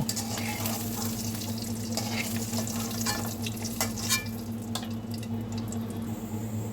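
Steady sizzling of duck eggs frying in hot oil, with occasional sharper crackles and spatters over a constant low background hum.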